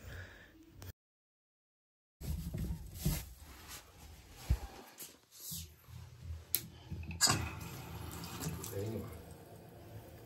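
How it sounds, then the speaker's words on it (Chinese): Water runs from a four-in-one faucet mounted at a sink after its angle valve is opened. After a brief silence, a steady close gush of water comes in and keeps flowing with small splashing variations. "水管接好，我们就可以上水试水了。"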